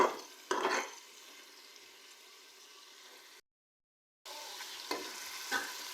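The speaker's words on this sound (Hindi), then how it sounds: "प्याज को हम लोग 2 मिनट तक फ्राई करेंगे।" Chopped onions frying in hot oil for a restaurant-style white chana cholay, a steady soft sizzle broken by a few scraping stirs of a spoon, with a brief silent gap partway through.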